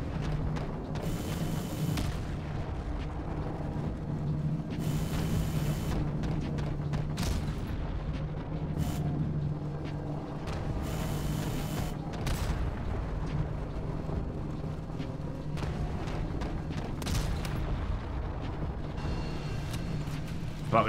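An AC-130 gunship in a remastered Modern Warfare 2 multiplayer match fires heavy rounds, producing booming impacts at spaced, irregular intervals over a constant low engine hum.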